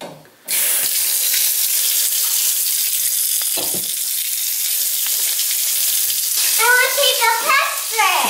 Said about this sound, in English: I'm going to start your water.